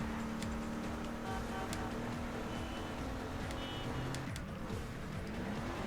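A car driven in the video game Wheelman: a steady, continuous engine drone with shifting pitch and road noise, moderately loud, with faint high electronic tones and game effects layered on top.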